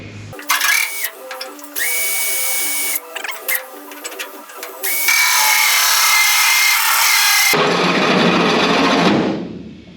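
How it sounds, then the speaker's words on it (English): A hole saw cuts a hole in a flange on a Firebird car, with short bursts of drilling and grinding, pauses between them, then a longer, louder sustained cut that spins down at the end. "As a general rule, hole saws, well, they can do weird crap."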